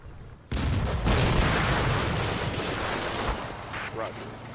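Sustained gunfire pours into a building in the World War II strategy game Combat Mission Final Blitzkrieg, a dense, loud fusillade of overlapping rifle and machine-gun shots that starts abruptly and rumbles on for several seconds.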